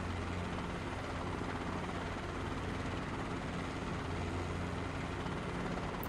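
A simulated Airbus A-star helicopter flies with a steady, droning rotor and engine hum near an airport runway. The tone stays low and even throughout, with no talking.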